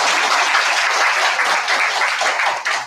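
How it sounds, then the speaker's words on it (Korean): A church congregation breaks into dense, steady welcoming applause that fills the room evenly and holds at full strength before trailing off slightly at the end. "환영의 박수를 한번 부탁드리겠습니다."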